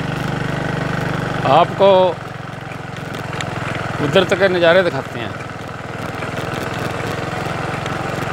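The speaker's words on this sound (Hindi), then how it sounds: "बाइक पर चल रहा हूँ" A motorbike engine drones steadily at mid pitch while riding along a road, with someone talking over the running engine throughout.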